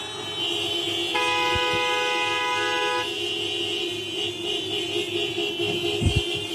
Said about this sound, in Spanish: Cada uno subiendo a sus vehículos y con los bocinazos van a empezar a marchar.